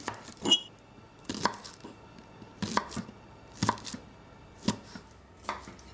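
Spring onions chopped with a knife on a board: about six crisp, close-up chops, spaced roughly a second apart, with no talking.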